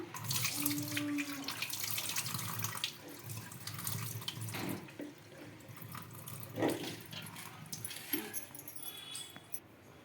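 Water runs from a tap and splashes into a vessel nearby, swishing as soaked lentils are washed and the water drained, with a few brief dog whimpers in between.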